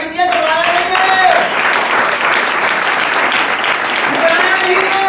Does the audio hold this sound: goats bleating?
no